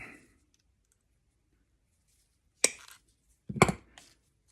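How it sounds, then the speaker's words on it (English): Wire cutters snipping a sharp point on thick wire used to mount a bird: two crisp, close metallic clicks a second apart in an otherwise quiet setting. "I've got this big wire. I'm going to cut a sharp point on it."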